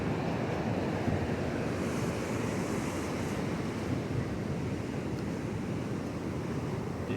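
Pacific Ocean surf washes steadily up a narrowing beach at Rosa, a continuous broad roar of breaking waves and rushing water with some wind, and no voices.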